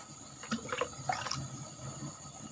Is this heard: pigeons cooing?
no